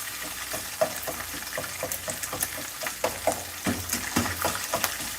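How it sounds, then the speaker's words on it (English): Codfish frying in a pan during home cooking, with a steady crackling sizzle under scattered clinks and stirring sounds, close and moderately loud, no talking. "so what I'm doing is I am frying the codfish."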